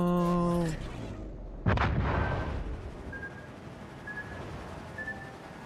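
Italian battleship Giulio Cesare firing its main guns in World of Warships, a single loud booming salvo bursting out after a short tonal lead-in, then fading into a long rumbling decay with distant crackle.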